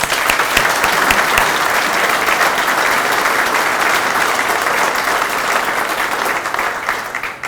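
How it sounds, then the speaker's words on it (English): Loud, sustained applause from a crowd at a veterans history gathering, a dense continuous patter of clapping that holds steady and starts to taper at the end. "If we could give him one more round of applause."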